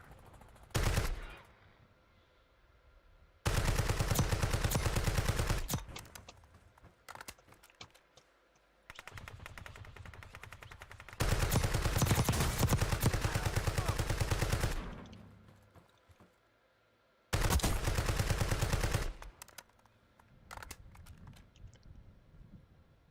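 Bursts of automatic gunfire from the battle royale shooter Call of Duty Warzone, several loud sustained volleys separated by quieter gaps, with sharp crackling shots between them.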